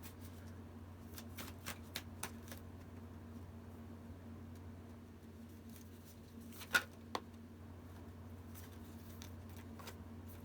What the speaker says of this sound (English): I'm going to pull one more card before I talk